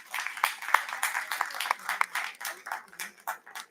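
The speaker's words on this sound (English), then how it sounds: "May we please have a round of applause for Ms. Priya Agarwal to make us so proud." An audience applauds at an award ceremony for a heritage event, a moderate, fairly sparse run of hand claps with individual slaps audible, steady and close for several seconds.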